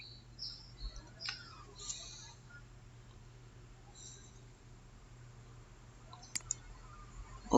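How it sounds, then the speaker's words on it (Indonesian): A computer mouse gives a few faint, sparse clicks to open a YouTube video, with light chirpy background sounds and a couple of sharper clicks near the end. "Saya klik salah satu video."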